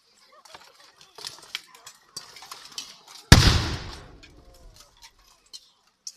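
A single loud cannon shot booms at a medieval battle reenactment and rolls away in a long rumbling decay, amid scattered metallic clinks and small noises from the battlefield.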